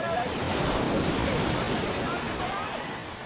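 Steady rushing surf of ocean waves with wind noise, a broad continuous wash that fades slightly at the end.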